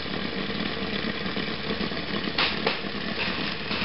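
A Bedini battery charger's motor wheel spinning under test, giving a steady mechanical whirring hum with a faint rhythmic rattle, close and continuous without talk.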